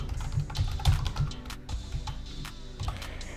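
Rapid typing on a computer keyboard while entering a store name during online shop setup, irregular bursts of close, crisp key clicks with brief pauses, no voices.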